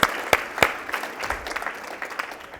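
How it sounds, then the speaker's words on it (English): Audience at a health-themed talk event giving a round of applause, a few sharp loud claps at the start followed by lighter, scattered clapping that tapers off. "I think that deserves a round of applause."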